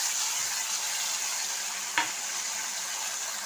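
A ground paste of mustard seed, poppy seed and dried chilli sizzles in a pan with an even, bright hiss, broken once by a single clink of a utensil, then cut off abruptly.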